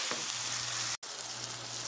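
Potatoes sauté in a pan for a chana gravy, giving a steady, close, even sizzle that cuts out for a split second before carrying on.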